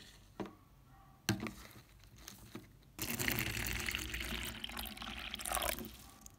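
Water is poured into the enclosure of an Acanthoscurria geniculata tarantula: a few soft clicks and taps at first, then a steady, fairly loud splashing pour that lasts for the second half of the clip, with no talking.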